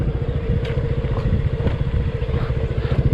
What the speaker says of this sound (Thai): เดี๋ยวจะขี่รถเข้าไป